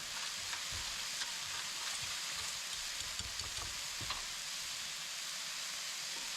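Crispy Cantonese noodles being stirred in a hot pan, giving a steady, close sizzle and hiss with faint scraping stirs running throughout, no voices.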